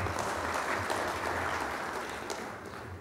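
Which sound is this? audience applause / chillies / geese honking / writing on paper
audience applause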